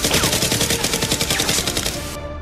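Rapid, continuous bursts of toy foam-dart gunfire in a Nerf war battle, loud and dense throughout with overlapping shots, ending abruptly.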